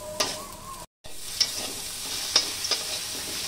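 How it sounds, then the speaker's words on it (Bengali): Green peas frying in oil in a pan, lightly salted, are stirred: a steady close sizzle with a few sharp scrapes and taps of the spoon against the pan, and one brief dropout partway through. "মটরশুঁটি ভেজে খেয়ে দেখবেন, অনেক ভালো লাগে। একটু লবণ দিয়ে দিয়েছি, হালকা করে একটু নেড়ে দিব"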